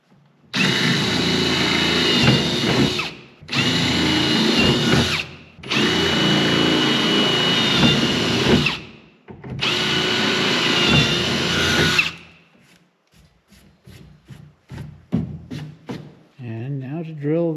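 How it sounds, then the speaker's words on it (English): A power drill bores holes in a box store garden trailer being upgraded for off-road use: four long, loud, close bursts of drilling separated by short gaps, then quieter clanks and handling sounds with a brief voice at the end. "now to drill the final set of holes here to allow us to clamp this together"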